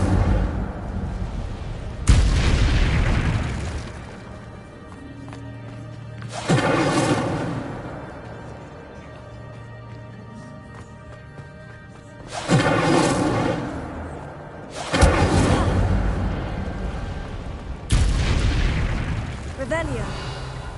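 Incendio fire spells cast in the video game Hogwarts Legacy, five loud whooshing fiery bursts spaced several seconds apart, each flaring up sharply and fading into a lower hum, with voices talking in between.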